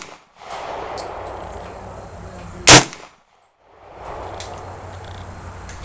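A single sharp, loud rifle shot from a New Frontier AR 45 at an outdoor range stands out mid-clip, ringing briefly against steady background noise before dropping to near silence.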